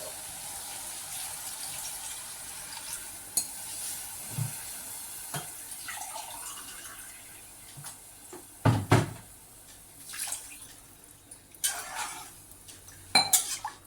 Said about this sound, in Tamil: இப்போ இந்த அரிசிக்கு தேவையான தண்ணி ஊற்றிக்கலாம்.